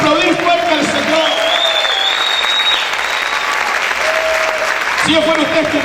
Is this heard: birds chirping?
no